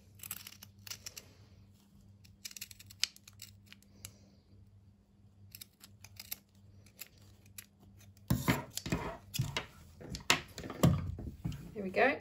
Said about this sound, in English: What I'm going to do for that is trim about half of the seam allowance off